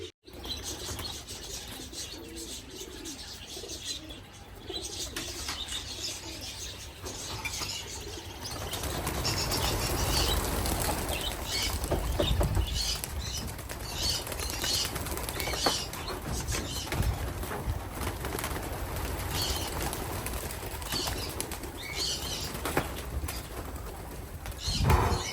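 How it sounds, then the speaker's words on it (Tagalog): Flock of racing pigeons released at the loft, a steady wash of flapping wings with faint coos and chirps, continuous and fairly close throughout, no talking. "nagpakawala na tayo ng ating mga ibon."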